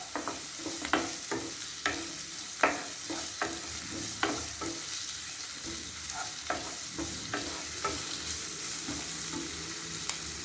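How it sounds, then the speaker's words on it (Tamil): Onions sautéing in a little oil, a continuous sizzle broken by regular clinks and scrapes of a spoon stirring every half second or so, close and fairly quiet with no speech. "வெங்காயத்தை நல்லா வதக்கிக்கணும்."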